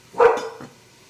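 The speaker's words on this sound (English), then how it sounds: "That's our dog." A dog barks in a home kitchen while red beans and rice are being cooked: one short, loud, close bark followed by a softer second yelp, then quiet.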